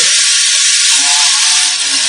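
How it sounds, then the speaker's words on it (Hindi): Pressure cooker whistle blowing continuously as a loud, steady steam hiss with a faint tonal whine, filling the clip from start to end with no talk. "तो कुकर ने भी सीटी दे मारा है"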